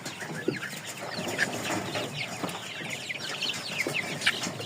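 Young and older chickens, some still yellow down-feathered, clucking and chirping in a coop: busy overlapping clucks and peeps at close range, steady throughout with no talk.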